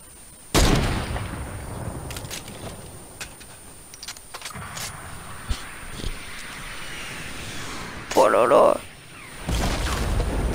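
Sniper rifle gunfire in a video game: a single sharp, loud shot, then scattered fainter clicks and impacts and a short burst of loud noise.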